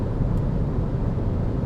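A 2024 Hyundai Kona Electric driving fast near its top speed, with a steady, loud, low rumble of road and wind noise inside the cabin and no talking.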